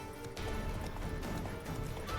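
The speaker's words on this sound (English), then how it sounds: "Oh no, my horse is out of stamina." Horse hooves galloping in The Witcher 3 during a fight with hounds, a rapid continuous drumming of hoofbeats, fairly close and steady, with a brief thud near the start.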